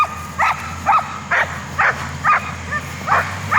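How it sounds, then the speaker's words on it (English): Dalmatians bark repeatedly in a steady rhythm, about eight sharp barks spaced roughly half a second apart, fairly near, over a low outdoor hum. "And of course, the boys are barking at her."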